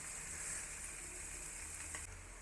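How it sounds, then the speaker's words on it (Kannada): Boneless bangude (mackerel) coated in masala fries in a pan with a faint, steady, even sizzle and no voices. "ನೋಡ್ಬೋದು ಆಲ್ರೆಡಿ ಫ್ರೈ ಆಗ್ತಾ ಬಂತು"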